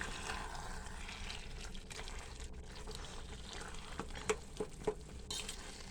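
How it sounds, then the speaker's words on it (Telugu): Tempering spices fry in a pan for tomato chutney, giving a steady low sizzle and hiss with a few soft stirring clinks near the end and no talk over it. "పచ్చివాసన పోయినంత వరకు వేపాలి. లెవెల్లో వేపాలమ్మా."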